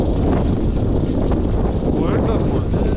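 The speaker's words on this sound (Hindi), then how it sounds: "बहुत सर्द हवाएं चल रही है" Strong, cold wind roars steadily and loudly across the microphone at a railway station near the Khojak Tunnel in Balochistan, a constant buffeting rush with no break.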